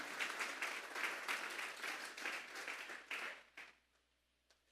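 A church congregation claps together during a Sunday service, a sustained round of moderate applause that thins out and trails off into a few scattered claps near the end.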